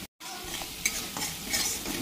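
Garlic, cumin, turmeric and salt frying in a pan, giving a steady close sizzle with light stirring scrapes after a brief silent gap at the start.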